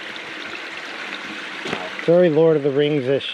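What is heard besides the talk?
small brook flowing through redwood forest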